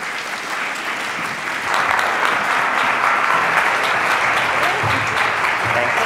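Audience applause at an evening library talk welcoming two speakers, a dense steady clapping that swells after the first second and holds loud and continuous throughout.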